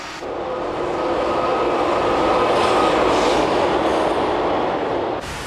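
A train rolls over Corkelast embedded rail track on the Erasmus Bridge in Rotterdam, a steady, muffled rumble that swells as it passes close and then cuts off sharply near the end.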